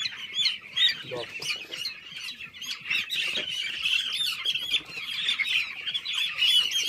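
Broiler poultry chickens squawking and clucking continuously, many birds at once, close and fairly loud, with no speech over them.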